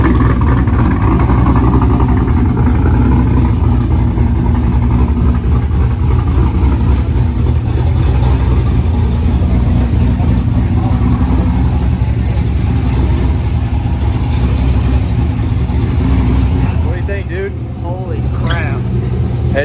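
A heads-and-cam modified Chevrolet Corvette C6 V8 runs loud and close, a thick continuous engine drone that holds steady, then dips briefly near the end.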